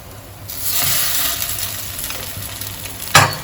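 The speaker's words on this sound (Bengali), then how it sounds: "প্রথমে একটু ভালো করে ভেজে নেব, তারপর আমি একটু ঘি লাগিয়ে দেব।" Sago paratha frying in a hot pan, a close, steady sizzle with brief scraping stirs and a sharp clack near the end, no voices.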